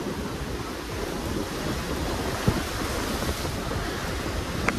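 Sea waves wash continuously onto the shore at Digha beach. A broad, steady roar of surf is mixed with wind buffeting the microphone, and no one speaks.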